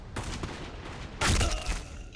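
Gunfire rings out in the Black Squad shooter video game, with bursts of rapid shots and a louder, denser volley about halfway through.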